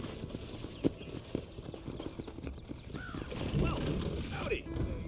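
Horse hooves clip-clop at a slow walking pace in the Red Dead Redemption video game. The footsteps are close and soft against a quiet ambient background, with a brief whinny-like sound and faint talk.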